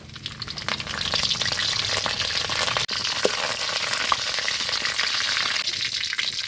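Steady loud sizzling of curry leaves frying in hot oil with fennel seeds, a few crackles and pops and one brief stir, close up and without voices.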